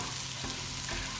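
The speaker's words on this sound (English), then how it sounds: "if the pot's starting to get kind of crowded, you can keep stirring it, make sure everything gets in contact with the bottom" Mushrooms and vegetables are stirred in a crowded soup pot, giving a steady, close scraping and sizzling texture with no pauses across the short stretch.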